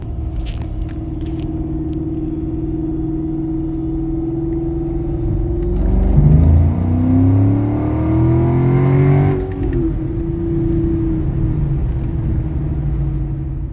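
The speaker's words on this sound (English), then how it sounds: "We'll do a quick second gear pull in the car so you guys can hear what it sounds like." A Mercedes-Benz W211 E55 AMG with a muffler modification rumbles at idle, then revs hard through a second-gear acceleration pull with rising exhaust roar for a few seconds before settling back to a steady drone.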